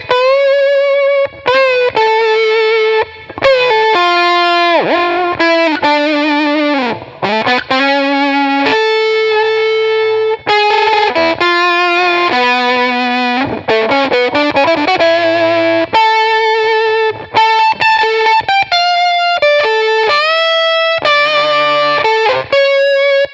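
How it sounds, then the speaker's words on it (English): Heavily distorted electric guitar through a virtual amp in Logic, driven hard, playing a melodic line with thick saturated harmonics and brief gaps between phrases, loud and close. "I kind of like this distortion, and I'm going to drive it pretty hard."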